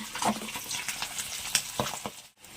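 Two pieces of fish fry in oil in a home kitchen, giving a brief close sizzle with scattered crackles and pops, heard on its own.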